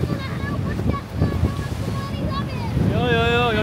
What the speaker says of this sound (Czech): natáčí vlny na mobil